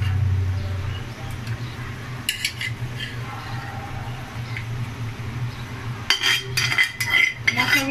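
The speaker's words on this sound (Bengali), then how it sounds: "মাছের দিয়ে একটু নেড়ে দিব খুব সাবধানে নাড়তে হবে যেন মাছগুলো ভেঙে না যায়" Fish pieces with winter vegetables are stirred gently in a cooking pan: a few close metallic spatula scrapes and clinks come in two short clusters, early and near the end, over a steady low background hum.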